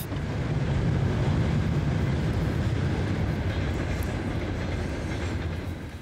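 A tram rattles along a bumpy ride through Kyiv, heard from on board as a loud, continuous rumble with a dense clatter of wheels and carriage that fades slightly at the end, with no talking.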